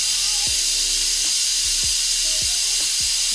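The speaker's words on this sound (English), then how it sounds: "you're gonna hear the steam come out" Steam vents in a loud, continuous hiss from the release valve of a Pressure Cooker XL cooking collard greens, with faint repeated clicks and thumps underneath.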